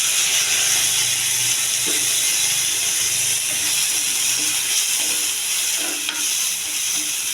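Onions fry in hot oil with a steady bright sizzle and hiss, punctuated by a few soft stirring scrapes and clicks, close and continuous with no voices.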